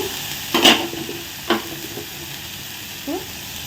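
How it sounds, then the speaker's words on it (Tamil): Tomatoes sauté in a pan with a light sizzle, broken by a few brief scrapes and clinks of a spatula, close by and fairly loud at first before settling into quieter frying. "தக்காளி பழம் வந்து நல்லா வதங்கிட்டு வருது"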